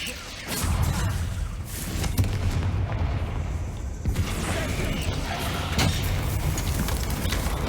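Confringo fire spell blasts in Hogwarts Legacy, a dense run of loud booming bursts and crackling impacts, close and continuous, with sharper peaks near the two- and four-second marks amid steady rumbling combat noise.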